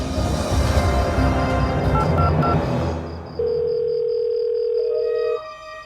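A steady telephone dial tone hums alone for about two seconds after a stretch of noisy background, ending abruptly, with a faint high beeping pattern continuing above it; no one speaks.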